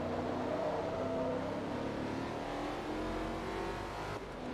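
Race car engine in Forza Motorsport 2 drones steadily at high revs, a sustained, slightly faint game-engine roar with a gentle pitch drift and no speech.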